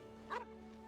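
A dog in a video game gives a single short bark or yip, clear over a steady background of soft game music.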